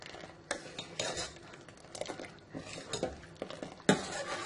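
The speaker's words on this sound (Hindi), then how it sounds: "इसमें इस तरह मुसलसल चम्मच चलाएं" A spoon stirs rice kheer in a pot, making repeated clinks and scrapes against the metal in an uneven rhythm, with one sharper knock near the end.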